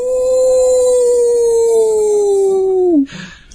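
A person imitates a wolf howl with one loud, sustained tone that slides slowly downward, then cuts off sharply and leaves a brief noisy tail.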